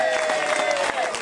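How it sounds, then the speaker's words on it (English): An audience at a town talk breaks into applause, a dense patter of many hands clapping at moderate distance, steady throughout the brief moment. "big round of applause for Lord Berners."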